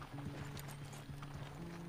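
Horse hooves clip-clop at a steady walking pace in the Red Dead Redemption 2 video game, soft and rhythmic against a low droning background.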